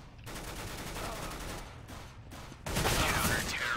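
Gunfire in the tactical shooter CS:GO during a community match, dense dry bursts sustained across the clip and growing louder in the final second, with no talk over it.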